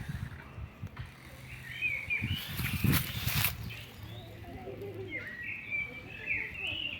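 Songbirds chirp and warble along a Kraków street, several bright calls standing out near and mid-distance over a low urban hum, with a brief louder rustling burst in the middle.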